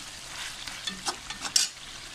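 Chicken shinwari karahi being stirred in a pan, a soft sizzle with scattered scraping clicks of the spoon over about two seconds, close and fairly quiet, no voices.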